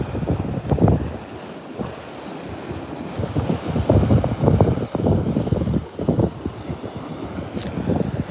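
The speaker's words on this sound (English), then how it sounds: "You can see the waves starting to form when the swells come in." Ocean waves at Virginia Beach roll in and break in a steady, irregular rhythm, their rushing surf mixed with gusty wind buffeting the microphone, with no voices heard.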